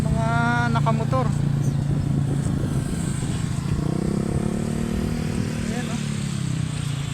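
Motorcycles arrive and idle at Dampalit Megadike in Malabon, a steady engine drone that rises and falls beneath continuous nearby talk in a busy outdoor crowd.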